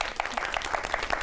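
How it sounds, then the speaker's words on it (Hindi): Studio audience applauding at a televised yoga and Ayurveda health show, a brief, moderately faint burst of clapping. "इस पर तो तालियां हो जाएं।"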